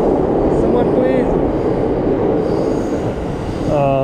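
A train rolls past in Japan with a loud, close, rumbling roar of wheels on rails, with faint metallic squeals and tones rising near the end, and some indistinct voices in the background.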